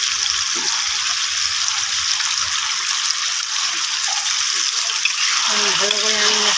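Cut, washed potatoes drop into hot oil and masala for a fish curry, giving a steady broadband sizzle that continues throughout, with a voice speaking briefly near the end.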